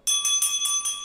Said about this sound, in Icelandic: Njótum þessar hljómfögru bjöllu.